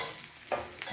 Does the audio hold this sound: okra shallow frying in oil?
yes